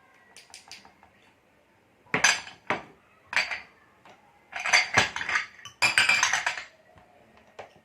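A small spoon clinks and scrapes against a bowl while a spoonful of cinnamon goes into a roasted-grain mix, several sharp close metallic taps in bursts with quiet gaps between.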